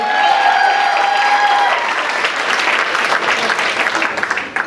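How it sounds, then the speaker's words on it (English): A comedy club crowd applauds steadily and loudly for several seconds, with scattered whistles early on before the clapping thins slightly at the end. "Give it up for Mr. AJ Marquez, everybody."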